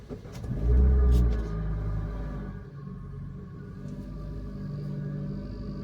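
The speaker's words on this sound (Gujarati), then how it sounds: "મિત્રો અત્યારે ગરમ થાય છે આનું એન્જિન જો અટાણે હે ને 1000 RPM માથે છે" An engine idles while warming up at around 1000 RPM: a steady low rumble with a louder revving swell near the start that then settles back to an even drone.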